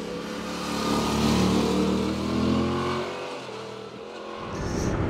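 A 2018 Yamaha MT-07 motorcycle engine drones steadily while on the move, its low hum rising and falling gently with throttle changes, loud and continuous with wind noise mixed in.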